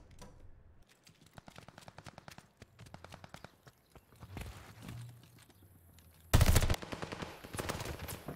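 Rapid gunfire from a ranked-play shooter video game, with bursts of automatic fire and single shots through the clip and a louder, dense burst near the end, along with footstep-like clatter.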